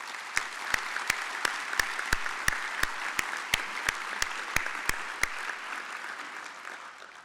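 An audience at a veterans' organization business session applauds steadily, with some sharp individual claps standing out from the even, moderately loud clapping before it fades.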